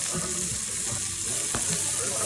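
Onions sizzling in a pan, a dense, steady frying hiss with occasional stirring scrapes, close and continuous throughout.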